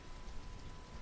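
Rain played back from a video on a stream, a quiet, steady, broadband patter and hiss lasting about a second, with no voices over it.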